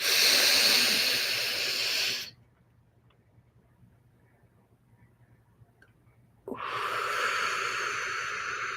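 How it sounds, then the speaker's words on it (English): Slow, deep breaths during a guided breathing exercise, each a broad airy rush lasting a couple of seconds, with a quiet pause between the inhale and the next breath; close and fairly soft, with no talking. "Take another deep breath in."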